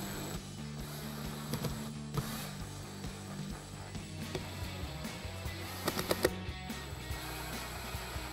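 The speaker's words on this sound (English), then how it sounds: "grab our T20 Torx bit on our impact again and run these in" An impact driver with a T20 Torx bit runs screws into plastic bolt holes on a matte black sequential projector headlight for a 2015-2023 Mustang. It makes a steady mechanical ratcheting whir with short, sharper rattling bursts near the end, close and alone.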